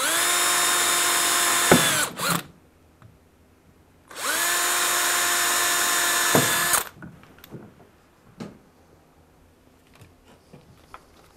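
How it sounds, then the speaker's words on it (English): A power drill with a 3/16 bit whines at high speed twice, drilling pilot holes in PVC rail post sleeves, each burst lasting a couple of seconds and winding down, followed by light knocks and handling sounds. "It's important to drill a pilot hole using a 3/16 bit"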